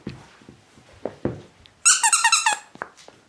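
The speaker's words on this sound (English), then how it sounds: "Squeaky noises?" A squeaky toy for a dog gives a rapid burst of high, sharp squeaks after a few soft thumps and shuffles, close and loud, with no talking.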